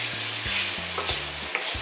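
Onion and garlic sizzling in a hot pan while being stirred, a steady close frying hiss broken by regular scraping strokes of the utensil.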